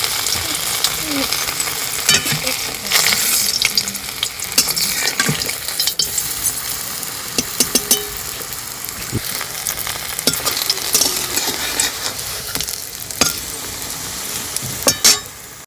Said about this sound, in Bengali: খুব অল্প তেলে কিন্তু এগুলো ভাজা হবে এগুলো একটা একটা করে দিয়ে ভেজে নেবো